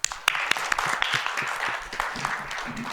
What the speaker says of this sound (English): So a big applause for Afrinic.